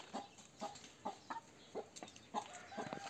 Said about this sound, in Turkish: Bağırtıyor hayvanı, kovalıyor.